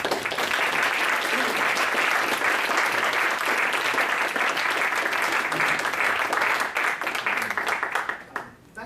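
An audience at a lecture applauding to welcome a professor, a dense and loud burst of clapping that holds steady before thinning out and fading near the end.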